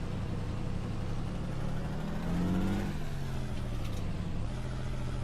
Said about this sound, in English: Listen, you can hear all the sounds and when you're changing gears and stuff.